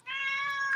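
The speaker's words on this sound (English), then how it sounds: "I'm actually sorry about my cat." A house cat gives a single clear, drawn-out meow lasting under a second, fairly close and alone with no talking.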